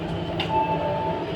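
Delhi–Meerut RRTS rapid-transit train accelerating, heard from inside the carriage as a steady rumbling roll with a rising electric motor whine, continuous and fairly loud.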